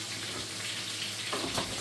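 Fish fries in a pan alongside vegetables steaming in vinegar and butter, producing a continuous close, dense hiss that swells briefly near the end.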